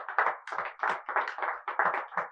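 A church congregation claps in a steady rhythm, about eight loud bursts over a couple of seconds, with no voices over it.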